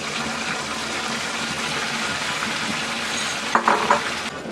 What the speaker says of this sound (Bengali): যে চিকেন গুলো এখন আমি ভেজে নিব।